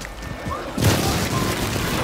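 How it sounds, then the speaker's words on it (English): A video game grenade goes off as a single loud, deep boom partway through, its rumble lingering after a quieter stretch of game ambience. "Throw a grenade."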